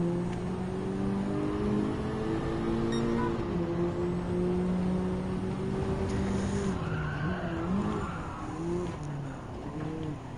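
BMW M4 race car in Gran Turismo 7, engine droning and revving steadily up close, then tires squealing and skidding through a corner as the pitch drops and climbs again.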